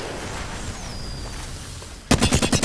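A burst of rapid video-game gunshots from a hip-fired weapon cuts in sharply near the end after a quiet, humming stretch, loud and close with several quick reports in a row.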